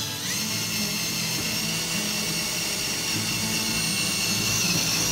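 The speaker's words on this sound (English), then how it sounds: "Now I'll just drill it." A power drill bores out a spot weld on the roof of a 1966 Chevrolet C10 pickup, a loud continuous high-pitched whine that holds steady for several seconds with no talk.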